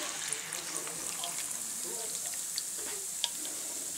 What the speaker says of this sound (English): So now I'm going to pour in the cider.